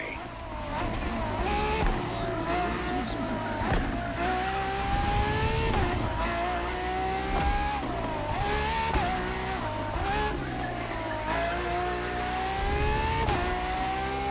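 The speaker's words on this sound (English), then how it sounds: "for this second lap, you'll be driving the FXXK" Ferrari FXXK supercar in the racing game The Crew Motorfest, its engine droning and revving steadily with rising and falling pitch through gear changes, loud and close for the whole stretch, with faint voice underneath.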